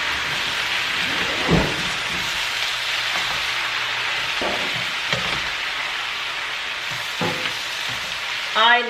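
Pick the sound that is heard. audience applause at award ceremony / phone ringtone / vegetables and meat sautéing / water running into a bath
vegetables and meat sautéing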